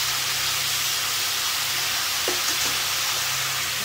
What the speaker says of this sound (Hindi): 6 मिनट के लिए ऐसे ही फ्राई करेंगे।